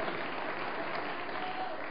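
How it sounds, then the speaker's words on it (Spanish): A church congregation at a thanksgiving service claps in a steady, dense burst of applause lasting a couple of seconds, with no voices over it. "Dele un aplauso al Señor por eso"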